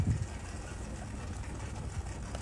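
A Ford GT40 engine in the video game Car Mechanic Simulator 2021 runs with a steady, low, muffled rumble at fairly low volume.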